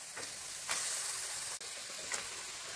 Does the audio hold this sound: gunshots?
no